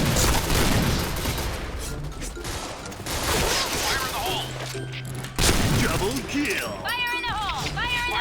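Gunfire from a championship gun in the shooter game PB crackles in dense bursts with booming hits and mechanical clacks, close and loud, under overlapping game audio and voices.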